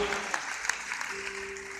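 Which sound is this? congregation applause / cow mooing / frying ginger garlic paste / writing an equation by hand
congregation applause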